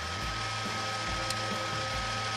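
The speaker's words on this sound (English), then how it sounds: "It's a little machine you would hear in a minute. It's actually a winch on the front of our machine here." A small winch on the front of a Mule utility vehicle pulls a deer skin, grinding and ratcheting in a rhythmic low cycle that repeats about every half second, moderately close and steady.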